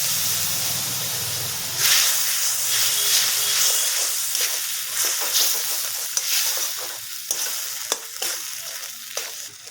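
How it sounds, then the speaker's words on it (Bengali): Spiced masala frying in a pan with a splash of water added, a steady loud sizzle and steamy hiss broken by scraping stirs and occasional sharp pops, with no talking. "আমি এখন একটু জল দিয়ে মশলাটাকে ভালো করে কষিয়ে নেব"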